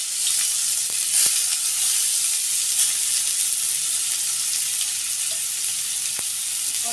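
Onions go into hot oil with cumin seeds and a dried chili, producing a steady, bright sizzle throughout, with a few faint clicks of a utensil against the pan.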